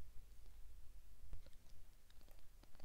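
Two or three faint, dry computer mouse clicks at a desk, scattered over a quiet room hum with no talking.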